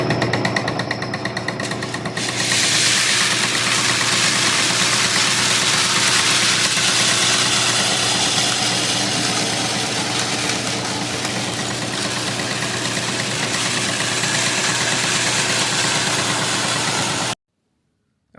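A Clipper office tester seed cleaner cleaning popcorn and red flint corn runs with a loud, steady mechanical rattle and hum, shaking screens droning close throughout before cutting off abruptly at the end, with no talking.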